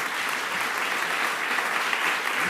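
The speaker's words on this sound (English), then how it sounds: "Give them a round of applause." Audience applause at a medical journalists' awards ceremony, a steady, dense wash of clapping from a full room that holds evenly for a few seconds.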